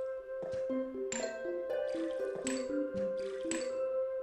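A plant is watered in the Zen Garden of the Plants vs. Zombies video game: a quick series of bright, watery plinks, drips and squishy splashes, played as a game sound effect with no talking.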